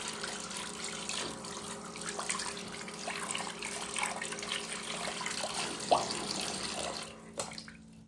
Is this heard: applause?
no